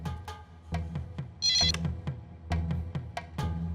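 A telephone rings with a bright electronic ringtone burst, loud and close, amid other household sounds in a Hindi TV serial scene.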